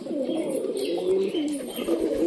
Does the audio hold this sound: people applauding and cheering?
no